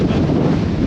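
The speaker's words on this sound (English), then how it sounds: "It's so windy out here." Strong wind roars and buffets the microphone in a loud, low rumble on Mount Tamalpais, Marin County, as rain starts, with no voices.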